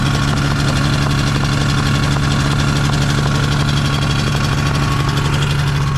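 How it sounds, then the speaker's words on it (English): A two-stroke engine on a small aircraft runs steadily up close, a loud continuous buzzing drone with a strong low hum and no pauses. "two-stroke sounds so much different than like a Lycoming or something"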